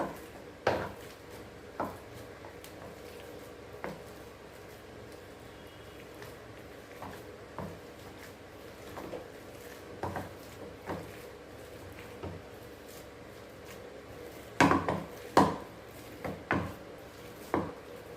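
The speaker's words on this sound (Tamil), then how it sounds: "நாலு உருளைக்கிழங்கு நல்லா வேக வச்சு மசிச்சு எடுத்துக்கலாம்" Boiled potatoes being mashed in a bowl, scattered soft thuds and clanks of the masher against the vessel, irregular and fairly close, with a few louder knocks near the end.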